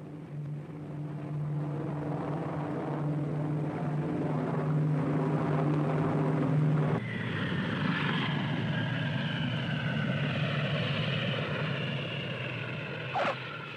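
A propeller aircraft drones steadily overhead in a 1950s film scene, its engine tone shifting partway through as it passes and changes pitch, loud and continuous with no talk.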